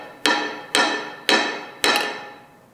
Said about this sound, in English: What I usually do is turn the hammer over and just gently tap,